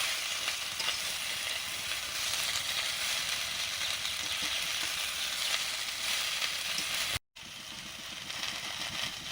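Greens and mixed vegetables for a Bengali chorchori frying in a pan, giving a steady, dense hiss and sizzle that runs on continuously, close and fairly loud, broken only by one brief cut near the end, with no talking.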